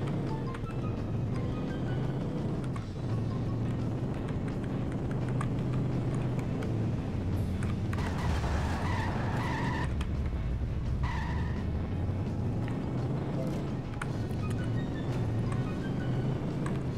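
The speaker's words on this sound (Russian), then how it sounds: "Уничтожь машину Смитерса, пока он не добрался до электростанции" Engine noise and tire skids from a car driving in The Simpsons: Hit & Run video game, a steady motor drone running through the whole stretch with a few sharper screeching bursts midway.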